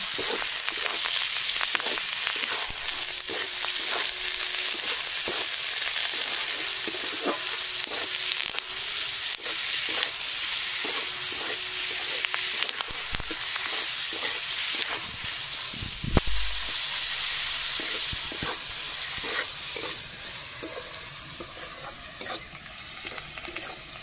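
Chicken 65 with curry leaves sizzles steadily in hot oil while a spoon stirs it, giving continuous close frying hiss with repeated scraping knocks throughout, no voices.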